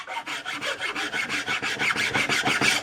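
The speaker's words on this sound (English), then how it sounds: "You rasp it with that side," Steel rasp working the limb of a yew English longbow, giving a steady run of rhythmic rough strokes, about a dozen back-and-forth passes, close and fairly loud with no talk.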